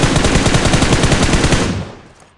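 Rapid automatic gunfire in a video game rattles out in one loud, continuous burst lasting under two seconds, then cuts off and fades quickly.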